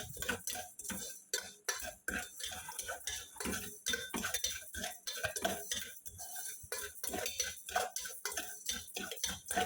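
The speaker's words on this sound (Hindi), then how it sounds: "कैरेमलाइज करने के लिए आपको ऐसे सिर्फ शुगर को हिलाना है।" Sugar stirred in a pan to caramelize it for egg pudding: continuous quiet scraping and clinking of a utensil against the pan, irregular and close, with no talk.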